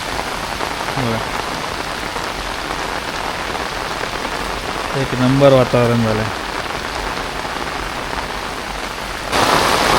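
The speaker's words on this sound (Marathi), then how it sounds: "पावसाचा जोर जास्तच वाढला आहे." Heavy evening downpour in the Konkan countryside, a steady dense hiss of rain on surfaces throughout, with someone speaking briefly over it near the start and again in the middle.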